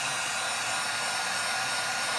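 A heat tool blows steadily and close up over a glass mug coated in epoxy mixed with mica powder. The hiss is constant and even and runs through the whole stretch, with no talking.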